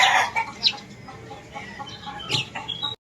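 A chicken clucks in a short series of sharp, close calls, with a brief louder squawk near the end before the sound cuts off.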